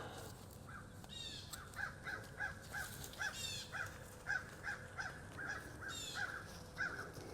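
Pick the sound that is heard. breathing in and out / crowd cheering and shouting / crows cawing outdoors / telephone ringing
crows cawing outdoors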